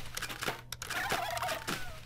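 Wild turkey gobbling in the Turkey Hunting USA arcade game, a short rattling gobble call set against steady game background noise, with no talking.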